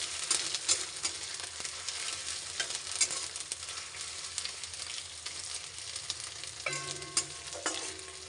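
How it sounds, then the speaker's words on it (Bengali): Ginger paste fries in a pan for a muri ghonto, giving a quiet, continuous sizzle broken by irregular scraping strokes of stirring, close but low in level, with a short tonal beep near the end. "আগে থেকে বেটে রাখা আদা বাটাটা দিয়ে দেবো ভালো করে মিশিয়ে নেব"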